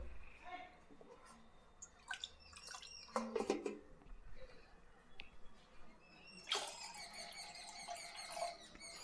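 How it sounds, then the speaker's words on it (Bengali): Water is poured into a cooking pot for pumpkin greens in a village-style kitchen, faint intermittent splashing and trickling with a louder steady pour near the end, amid small handling clatter. "দিয়ে দিচ্ছি পরিমাণ মতো জল"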